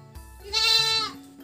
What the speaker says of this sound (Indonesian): Beternak ya. Kambing.